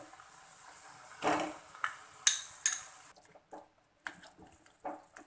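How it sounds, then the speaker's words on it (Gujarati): Potatoes tumble into a pan of cooked-down tomato and oil for a Gujarati farali fasting dish. A few soft thuds and metallic clatters of a spoon against the pan are followed by sparse, quiet scrapes and taps. "હવે તેમાં આપણે બટેટા નાખી દઈએ"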